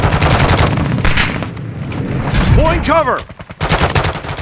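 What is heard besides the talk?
gunfire in the video game Call of Duty: Warzone 2.0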